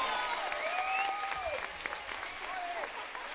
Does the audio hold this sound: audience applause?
yes